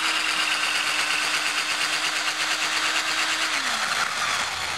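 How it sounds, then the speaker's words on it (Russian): A cordless drill with a 10–12 mm spade bit bores into a maple trunk, running at a steady high whine that drops in pitch near the end as the motor slows, loud and alone. "Шуруповерт с собой, заряжаете его перьевым и"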